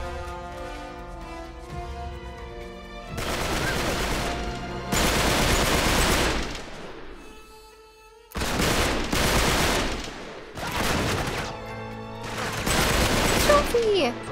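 Video game gunfire in Uncharted 3: Drake's Deception, rapid automatic bursts and repeated shots coming in loud sustained volleys with short quiet gaps between them.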